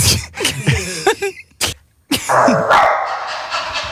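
A person imitating a dog, giving several short, punchy barks and yips in quick bursts, then a pause and a final bark followed by a noisy studio background.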